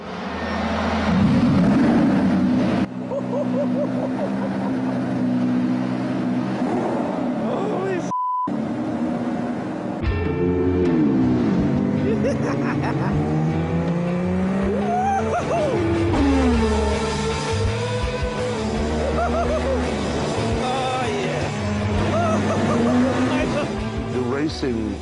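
Ayrton Senna's racing car is driven through the Monaco streets, its engine sweeping up and down in pitch as it revs and shifts, heard under ongoing talk.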